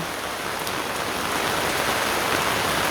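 Heavy rain pours down in a steady, dense roar of hissing drops, loud and unbroken throughout with no voices.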